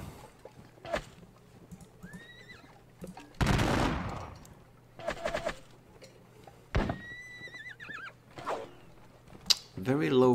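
Artillery fire in the Napoleonic wargame Napoleonic Battles Leipzig: a few sharp cannon booms, with one large burst near the middle, among horse whinnies and scattered battle noise. Lighter gunfire crackles in the background.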